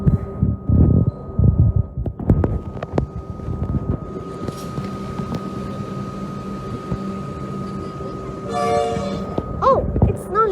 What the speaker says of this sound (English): another train's coming.